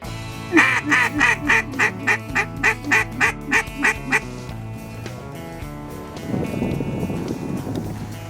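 Waterfowl, including teal, call during a duck hunt in Missouri or Kentucky, giving a rapid series of about a dozen loud, even honking calls close by, followed by a looser, noisier stretch of background sound.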